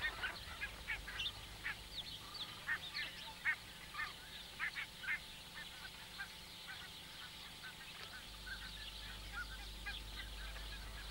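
Cape Barren geese nesting in reeds give a series of short, rhythmic honking calls, moderately close and repeated steadily, fading into a quieter low rumble toward the end.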